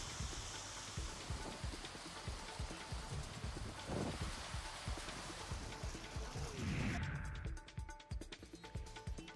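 Heavy unseasonal rain driven by strong winds in Baglan taluka, a dense continuous downpour of drops striking surfaces with gusty wind noise, close and loud throughout.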